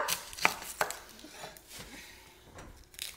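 A knife chops onions on a board, with a handful of crisp, irregular cuts close by, two sharper hits early, then softer taps fading into quiet room noise.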